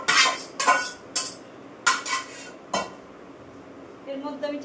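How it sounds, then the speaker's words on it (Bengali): Fried vegetables are tipped into a pot of boiling dal with turmeric, giving several loud clattering scrapes and knocks of a utensil against metal in quick succession, then a softer bubbling sizzle. "এবার আমি সবজিগুলো ঢেলে দেবো।"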